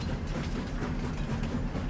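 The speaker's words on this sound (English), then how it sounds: "I don't know if the train's just going to disappear through that tunnel" A freight train rolls past in Farming Simulator 25, a steady low rumble with a continuous rail clatter, close and even throughout, no voices.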